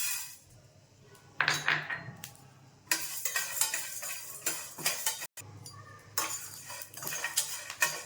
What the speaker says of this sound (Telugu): పల్లీలు వేగాయండి, ధనియాలు వేస్తున్నాం